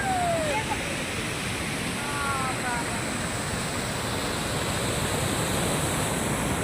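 Broad, steady rush of a big river flowing in a Mumbai national park, continuous and fairly loud with a faint wind edge, no voices over it.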